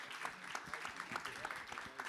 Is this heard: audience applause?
yes